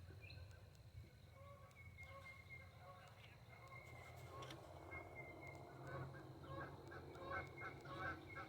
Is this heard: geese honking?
yes